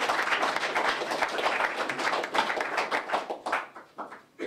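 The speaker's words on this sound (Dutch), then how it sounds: "Warm applaus voor deze man." Warm applause for a football trainer at an SWZ Boso Sneek club gathering, many hands clapping steadily for about four seconds before thinning out toward the end.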